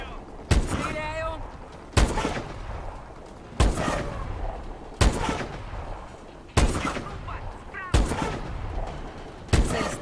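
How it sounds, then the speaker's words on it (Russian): Gunfire in the futuristic shooter Call of Duty: Advanced Warfare, seven loud, evenly spaced heavy shots, each a sharp crack with a short rumbling tail, while voices talk in between. "Стреляю."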